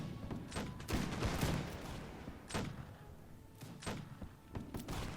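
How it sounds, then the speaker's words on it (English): Musket volleys crack out in the Napoleonic Total War mod L'aigle, several ragged bursts of massed fire spread across a few seconds, moderately distant and without talk. "Musketeers, now you can fire at will again."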